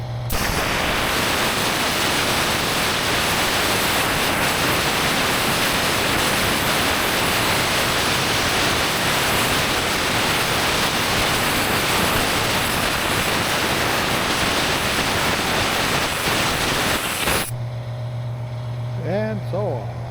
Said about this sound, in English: I'll blow it off with air to get rid of all the, get rid of some of the water